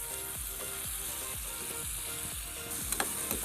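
Chicken pieces frying and browning in a pan while cooking chicken vegetable noodles, a loud continuous sizzle with a repeated rhythmic scraping of a spatula stirring, close up, with no talking.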